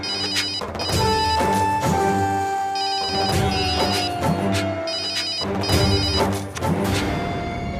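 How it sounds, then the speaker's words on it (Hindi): A telephone rings loudly and repeatedly in bursts, with a crash and some thumps mixed in among the rings. "ये भीमा फोन काहे नहीं उठा रहा?"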